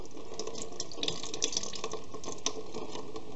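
Tap water trickles and splashes steadily into the coolant reservoir of a 2006 Honda Metropolitan or Ruckus scooter, a quiet, continuous pour with small irregular splashes and no talking.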